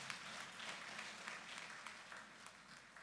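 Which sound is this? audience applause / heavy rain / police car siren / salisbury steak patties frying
audience applause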